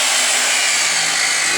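A small portable table saw runs after being switched on, giving a steady, loud motor whine with broadband hiss that holds evenly through the short stretch, with no voices.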